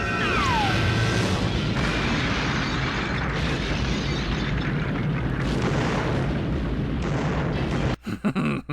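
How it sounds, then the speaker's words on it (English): A loud, sustained explosion from a film, heavy rumbling blast noise filling most of the stretch before dropping away into a few shorter bursts at the end. "and then the explosion"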